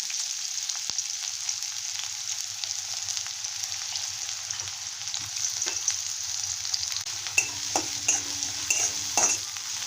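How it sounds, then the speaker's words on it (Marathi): Onion sautéing in hot oil in a kadhai for papad bhaji, a continuous bright sizzle with soft stirring scrapes and occasional light metallic clinks, close and steady with no talking. "कांदा असा लालसर होईपर्यंत परतून घ्यायचा आहे"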